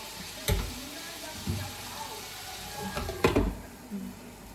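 Breakfast food frying in a pan, a low sizzle with a few spatula scrapes and knocks while stirring, followed by a lid clattering back onto the pan.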